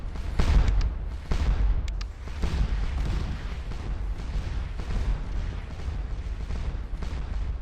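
Artillery fire in the Napoleonic battle game Scourge of War Waterloo, repeated deep booms and rumbling volleys that roll on continuously, loud and close, with no talking.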